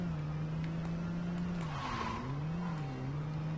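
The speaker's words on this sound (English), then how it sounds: "Actually, this is a pretty decent car." Car engine droning steadily while driving in Saints Row 2, its pitch dipping and rising with throttle changes, with a brief whoosh or skid midway, fairly loud and without talk.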